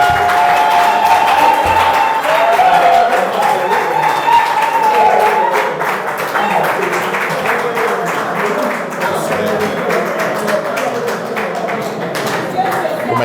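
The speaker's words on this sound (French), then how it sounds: "Si elle vient signer, vous applaudissez." Audience applause at a theology master's thesis defense, a dense and fairly loud spread of hand claps that runs steadily for the whole stretch, with a few louder taps and some crowd murmur mixed in.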